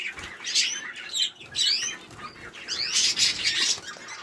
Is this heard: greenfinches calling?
yes